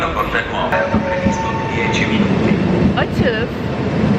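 Train rolling along the railway out of Milan, a steady loud rumble with rattling carriage noise and faint rhythmic wheel clatter throughout, voices murmuring underneath.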